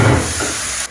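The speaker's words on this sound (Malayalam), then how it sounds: "കടുക് പൊട്ടി ഇതങ്ങോട്ട് ഇട്ട് കൊടുക്കാം." Mixed vegetables including bitter gourd and snake gourd dropped into hot oil with popped mustard seeds, giving a loud, sudden burst of hissing sizzle that fades slightly over a second.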